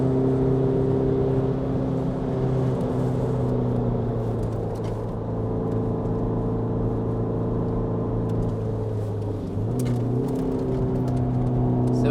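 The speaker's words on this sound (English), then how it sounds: "It's kind of weird with the diesel as well because I need to keep the RPMs low." Steady low drone of a diesel car engine held at low RPM on a wet track, a continuous rumbling hum with slight pitch shifts and a brief dip near the end.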